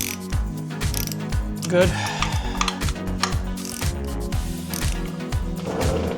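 A ratchet wrench loosens the AC condenser bracket on a BMW E46 M3, with quick bursts of clicking strokes repeated close up and a single short spoken word partway through.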